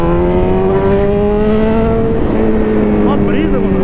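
A Honda CB1000 motorcycle passing on a road, its engine whining in a rising, steady tone that swells as it rides by, heard loud and near beneath ongoing traffic noise.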